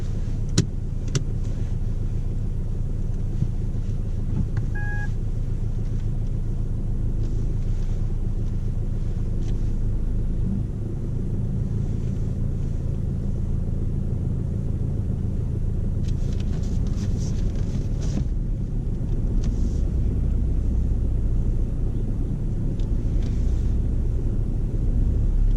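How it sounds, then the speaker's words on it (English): A car driving away along a road, a steady low engine and tyre rumble lasting throughout with wind buffeting the microphone, fairly close and continuous with no talk. "So we're going to drive out towards there."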